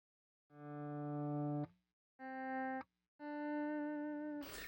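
Electric guitar through a Donner Vowel Mini active volume pedal, three sustained notes each swelling in and cut off abruptly, with short silences between, clean and close with a brief noisy burst at the very end.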